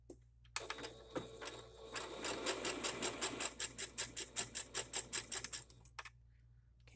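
A sewing machine running a zigzag stitch on a fabric stripe scrap, a rapid even train of mechanical stitch clicks that speeds up after a faint start, close and clear, then stops.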